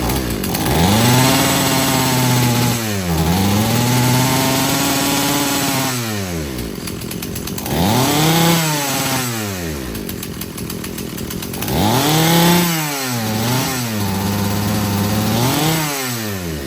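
A Husqvarna chainsaw engine runs loudly and close, idling low then revving up in repeated surges, with pauses back to idle between each rev.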